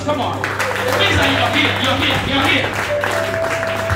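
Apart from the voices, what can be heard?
congregation clapping for Jesus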